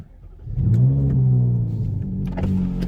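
A Ferrari 458 Italia's powerful engine cranks and fires up with a deep roar, then settles into a throaty idle with a brief rev near the end.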